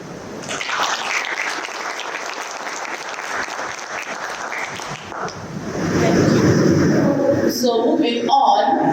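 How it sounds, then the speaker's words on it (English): Audience at the Dairibord 2023 results presentation in Harare breaking into sustained applause, a dense wash of clapping that carries on steadily before shifting to a fuller, rumbling crowd noise toward the end. "You did clap."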